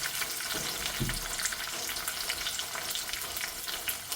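Shallots fry in a pan for mutton liver gravy, a dense, continuous hiss of oil sizzling close by with a couple of soft knocks near the start, no talking.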